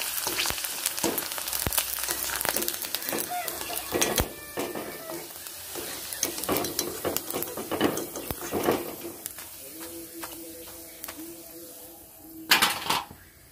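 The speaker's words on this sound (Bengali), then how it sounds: "তো একইভাবে আমি সবগুলো ভেজে নেব" Semolina chips frying in hot oil, a steady crackle broken by repeated sharp clicks and clatters of a utensil near the pan, with a brief tonal whine near the end.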